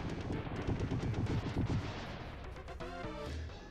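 Explosion in the SNES shooter Cybernator, a loud low-detail burst of rumbling crackle lasting a couple of seconds, followed by a short buzzing electronic tone and a low thud.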